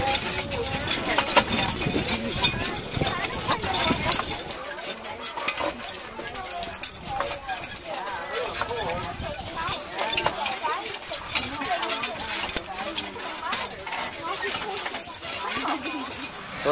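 Horses' hooves clip-clop at a Canada Day parade in Kingston, Ontario, a steady broadband clatter heard amid a noisy crowd, with people talking nearby throughout.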